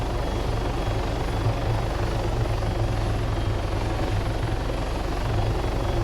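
Helicopter in the Arma 3 video game, a steady close rotor thump and turbine roar holding at an even level throughout with no voices.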